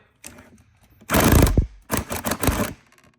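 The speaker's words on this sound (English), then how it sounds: "now we need to tighten down the clamp to the intake hose between the filter and the throttle body." An 8mm socket tightens the clamp on the intake hose between filter and throttle body of a Dodge Challenger Scat Pack, giving a few close, loud bursts of ratcheting and clattering separated by short pauses.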